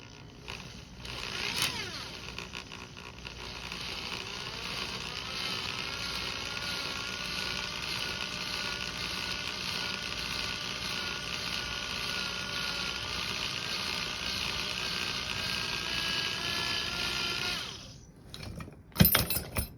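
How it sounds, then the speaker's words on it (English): Steady, grinding whir of a drill boring into resinous fatwood, running continuously for about seventeen seconds before stopping with a brief clunk. "so let's start drilling"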